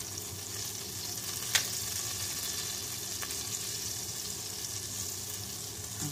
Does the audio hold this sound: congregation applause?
no